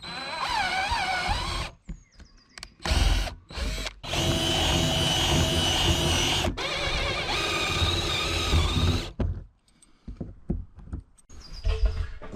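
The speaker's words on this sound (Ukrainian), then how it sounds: "але є отаке свердло 12, те тож спробуємо сверлити, а потім розсверлювати." A loud power drill with a 12 mm bit bores in several long bursts, stopping briefly between them and whining as it spins up again.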